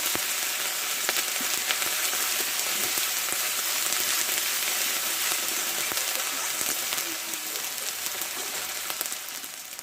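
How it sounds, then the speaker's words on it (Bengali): Onion and ginger paste sautéing in a hot pan gives a steady, dense sizzle that runs unbroken throughout, close and fairly loud, with a few faint stirring scrapes and no voices. "একটা মোটা সাইজের পেঁয়াজ আমি পেস্ট করে নিচে এটা দিয়ে দেবো কিছুটা আমি আদা বাটা দেবো ভালোভাবে কষে নেব"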